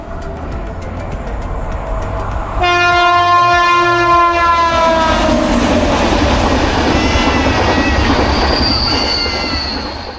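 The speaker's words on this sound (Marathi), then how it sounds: "रेल्वे ट्रॅकवरून एक ट्रेन जोरात" A loud train horn blares, then the train rumbles past on the track, wheels roaring and clattering steadily before fading slightly at the end.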